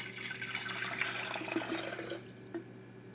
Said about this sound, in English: next I pour the 2 cups of water into my Melita